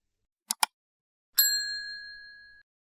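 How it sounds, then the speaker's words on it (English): Notification bell sound effect: two quick sharp clicks, then a single bright ding that rings out and fades over about a second, clean and isolated. "ring the bell so you never miss an update."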